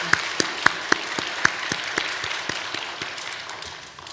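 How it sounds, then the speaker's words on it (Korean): A church congregation applauds the choir after a hymn, a sparse, distant patter of claps with a few sharper hits, fading out over about four seconds. "우리 박수 한번 쳐드립시다."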